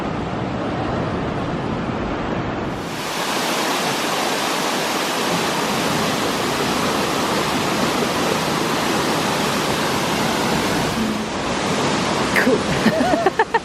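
A waterfall on Madeira pours in a loud, steady broadband roar nearby, growing fuller after a few seconds and continuing without pause.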